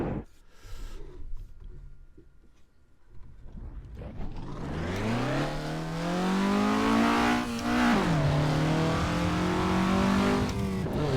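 A car engine in the racing game Assetto Corsa revs up steadily from a low idle, pitch climbing, dipping briefly, then climbing again in a loud, sustained drone.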